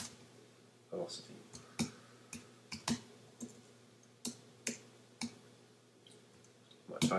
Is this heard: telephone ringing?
no